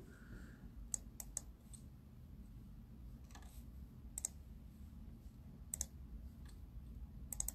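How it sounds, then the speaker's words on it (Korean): A computer keyboard clicks faintly with sparse, irregular keystrokes over a low background hum, distant and quiet, with no talking. "키보드 소리 너무 힐링이에요."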